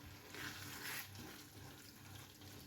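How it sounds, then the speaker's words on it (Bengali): Water from a bowl poured into a pot of ghugni during cooking, a soft, faint splashing wash lasting a couple of seconds over low kitchen background noise. "এই বাটিটার 1 বাটি জল আমি এর মধ্যে দিয়ে দেব"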